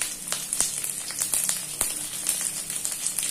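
Garlic frying in hot oil with dried chillies, a steady close sizzle crackling with sharp pops throughout.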